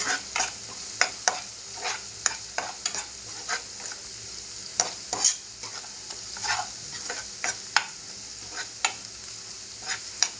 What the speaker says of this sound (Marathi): आपला मालवणी मसाला चवीनुसार मीठ व्यवस्थित मिक्स करून घेऊया तेलामध्ये